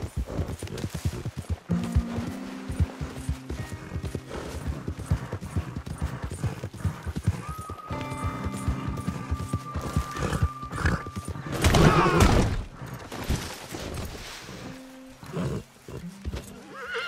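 Horse hooves clip-clop at a steady galloping rhythm in Red Dead Redemption 2, with a whinny and snort breaking through partway, over a continuous game soundscape.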